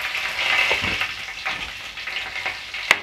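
Green chillies sizzle in hot oil with cumin and urad dal for tomato rice, a steady close frying hiss broken by a few stirring scrapes and one sharp pop near the end.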